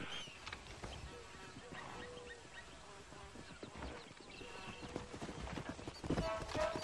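Horse hooves clip-clop in the Red Dead video game, a steady light patter of steps under game sounds, with brief faint voices.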